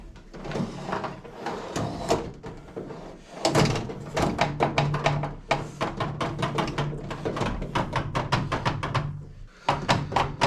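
Metal drawers of a rolling tool cabinet cart slide open and shut again and again, with rattling runner noise and repeated firm thunks and clacks, close and busy throughout.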